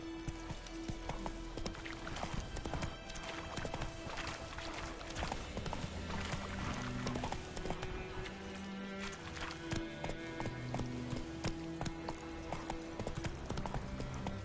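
Galloping horse hooves clip-clop steadily through The Witcher 3, a fast rhythmic beat running the whole way under game music with a brief whinny.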